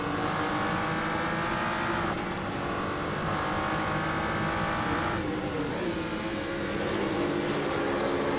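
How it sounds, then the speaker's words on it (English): A BMW GT3 race car engine in the game Assetto Corsa at the Nürburgring GP circuit roars continuously at high revs, loud and steady, with a couple of brief shifts in pitch. "It sounds like such a race car."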